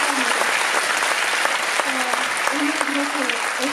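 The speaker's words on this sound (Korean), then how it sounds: "격려의 박수를 부탁드립니다" After a Korean staging of the operetta Die Fledermaus, a hall audience claps in steady, loud applause while someone speaks over it through a microphone.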